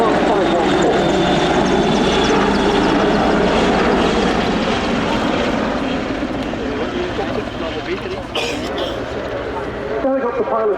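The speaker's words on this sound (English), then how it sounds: "Final pass then from the Portuguese Air Force AW101 Merlin, Mark 514." A Portuguese Air Force AW101 Merlin Mark 514 helicopter roars past loudly in a display flypast, its heavy rotor thrum and engine whine dominating, then easing slightly as it moves off.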